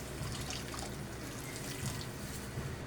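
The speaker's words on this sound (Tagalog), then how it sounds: "Ilalagay na ako ng tubig. Mainit na kagad ang nilalagay ko kasi para dire-diretso kulo." Hot water poured into a cooking pot for a chicken and green peas in tomato paste dish: a steady, continuous rushing pour, close and even throughout, with no talking.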